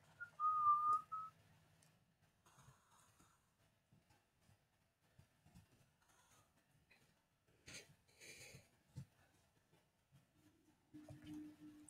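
A player whistles over voice chat during a Roblox Phantom Forces match: a short bright whistled tune near the start, a faint hum near the end, and soft game clicks and thumps between.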